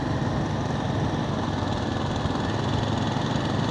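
A Royal Enfield Guerrilla 450 motorcycle engine idling with slight tappet noise, a steady close mechanical drone with a fine ticking texture and no voices.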